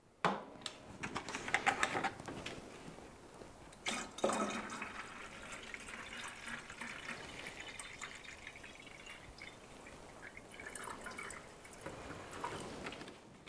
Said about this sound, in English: I'm gonna top this off now just to make sure I've got enough water